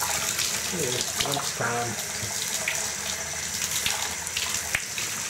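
Running water rinses soap off guinea pigs in a sink or tub, a steady broadband splashing and gushing close by through the whole clip, with brief speech over it.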